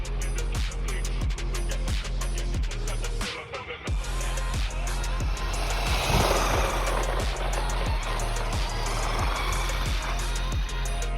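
A vintage Losi LXT brushed RC truck drives off-road, its small electric motor whining steadily with rapid clicking and rattling from the chassis and terrain, loud and continuous with a brief dip in the middle.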